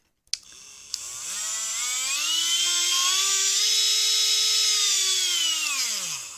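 Repaired Dremel 800 10.8 volt lithium-ion rotary tool switching on with a click and whining up to a steady high-pitched motor tone, held for several seconds before slowing slightly, close and loud with no talk.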